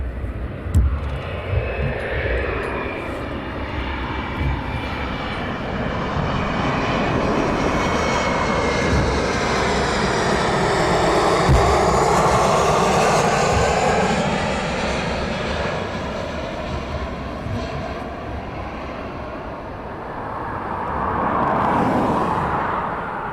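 An aircraft arriving at East Midlands Airport at night, its engine roar swelling loud and steady as it passes, then easing before a second rise near the end, with no talk.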